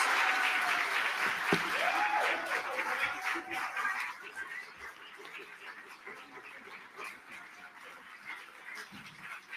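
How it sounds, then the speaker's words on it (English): Crowd applause for Reverend Al Sharpton at an evening event honoring Malcolm X, a dense wash of clapping that is loud at first and then thins and fades, with a brief voice or sharp sound near the start. "Please give him a round of applause."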